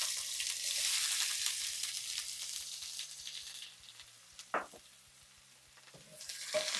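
Onions dropped into hot, fragrant oil for halal-cart-style chicken over rice set off a steady loud sizzle that fades to a softer crackle, with a few sharp clinks of a utensil in the pan.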